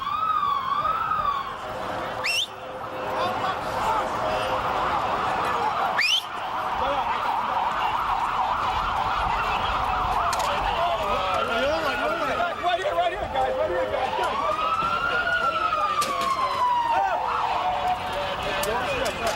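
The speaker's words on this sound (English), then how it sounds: "police emergency service vehicles were coming in, and I just, you know, started rolling. Sirens were wailing." Police and emergency vehicle sirens wail in rising and falling sweeps during the September 11 attacks in New York, loud and continuous over nearly twenty seconds with a busy street din and voices underneath.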